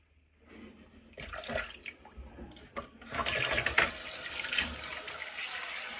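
Water running from a bathroom tap while rinsing off after a goatee shave, starting faint with splashes and then a steady, fuller flow close by.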